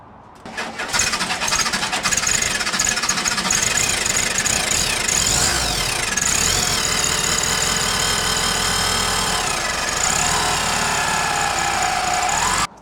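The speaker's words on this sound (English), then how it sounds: "Got a rubbing noise on the fan" A VW Beetle TwinPort engine with an SSP setup idles steadily after starting, its cooling fan rubbing against the housing and adding a continuous scraping, rattling layer over the uneven air-cooled chug, close and loud throughout.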